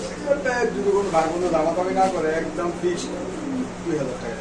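A boat-shaped black Lahori pigeon coos in repeated low phrases, close by and mostly under a person talking throughout.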